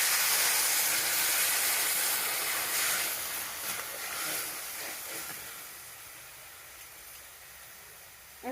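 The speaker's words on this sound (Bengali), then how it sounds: "আমি পাঁচফোড়নটা একটু ভেজে নিয়েছি, দিয়ে আমি এর মধ্যে তেঁতুলের পাল্পটা দিয়ে দেব।" Tamarind pulp dropped into fried five-spice in a hot pan gives a strong, steady hiss and sizzle that gradually fades over several seconds, with no talking.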